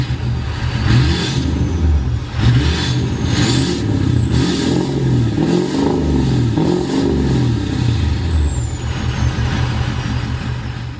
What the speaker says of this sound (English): that's a 4-inch turbo back exhaust with an 8-inch tip from Wesley Fabrications